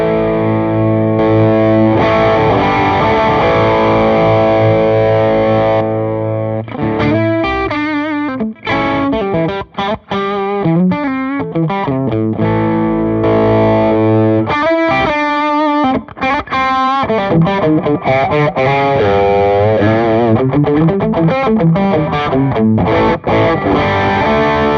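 Electric guitar played through a Clarksdale overdrive stacked with a Tumnus overdrive pedal, giving a loud, continuously distorted tone with sustained chords and quick single-note runs over about 25 seconds, with no talking.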